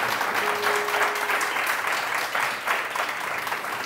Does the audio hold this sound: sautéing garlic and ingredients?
no